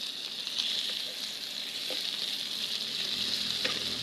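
Shrimp fry with onions and okra in a pan, a steady bright sizzle holding throughout, with a few soft stirring clicks and no voices.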